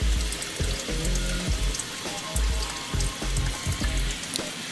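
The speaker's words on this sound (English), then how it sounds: "filling up the pipes with the water from the hose" Water from a hose gurgles and splashes steadily into basement pipes with low bubbling pulses, close by.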